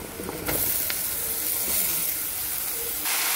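Ridge gourd hits a hot pan of garlic and turmeric with a loud, continuous sizzling hiss, and a few faint clinks come at the start.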